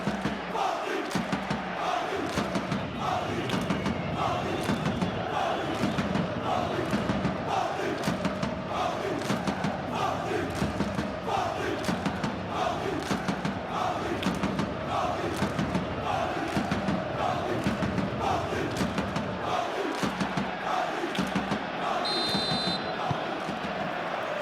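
A stadium crowd in the eFootball video game during a simulated PSG vs Tottenham Champions League match rumbles continuously as a loud, steady roar with rhythmic surges, and a commentator talks over it.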